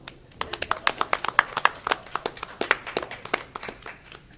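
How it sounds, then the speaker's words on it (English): A small indoor group at a school board work session gives a short burst of scattered hand clapping. The claps are close and uneven and fade out after about four seconds. "So let's get a round of applause."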